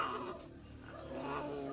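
A cat yowls in a drawn-out, wavering caterwaul during mating on a road, fairly faint and continuous with no talking.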